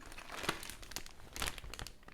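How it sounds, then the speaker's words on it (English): A plastic bag crinkles and rustles in bursts as tomatoes are put into it, the sharp crackles rising and falling close by. "just put it in a plastic bag"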